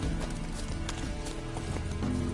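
Horse hooves in The Witcher 3 gallop in a steady, rapid clip-clop rhythm, loud and continuous, with game ambience and music layered underneath.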